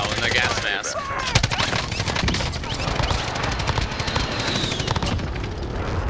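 Rapid automatic gunfire crackles through a battle royale video game firefight, bursts overlapping continuously with booms and players talking over it.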